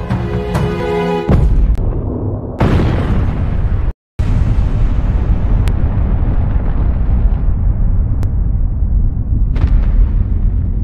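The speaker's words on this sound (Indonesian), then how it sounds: "Akhirnya bom yang berada di taman bermain itu pun meledak" A bomb detonates in a playground during a film scene, with a loud blast and a long rumbling roar that follows. A brief silence comes before a second heavy burst, which then decays slowly as the rumble continues.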